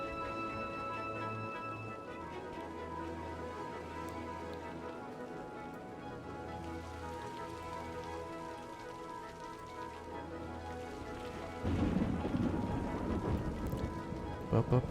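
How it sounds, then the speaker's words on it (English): Game rain in Cities: Skylines patters steadily as a constant wash of drops, with low rolling rumbles early on and a louder, denser surge in the last few seconds. "Beautiful rain. The roads always look so weird when it rains in this game"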